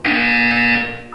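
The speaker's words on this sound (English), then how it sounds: "When you hear the buzzer, look down at the floor." A loud electronic buzzer in the video game Portal 2, one sustained harsh tone about a second long that sounds alone, close and steady, then cuts off.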